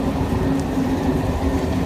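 A train rolls through a city centre in Brno, a steady, continuous rumble with a low mechanical hum holding at even loudness throughout, no voices over it.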